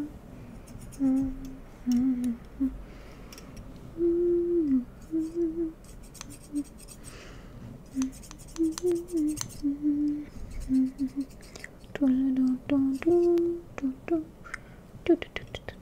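Scissors snip through hair during a close, intimate haircut, with repeated soft, crisp cuts in short bursts beneath a quiet, gentle voice.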